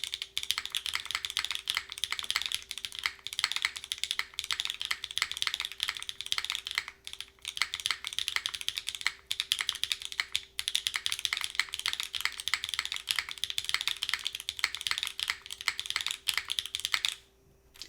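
Rapid, continuous clacking from typing on an Agar mechanical keyboard without foam, close and fairly quiet with steady keystroke rhythm and only brief pauses.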